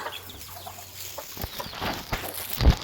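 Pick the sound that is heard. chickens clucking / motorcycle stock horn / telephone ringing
chickens clucking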